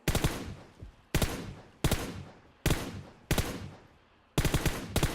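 Bursts of automatic gunfire in PUBG Mobile, six rapid volleys, each a loud close rattle of shots that tails off before the next burst, with no voices.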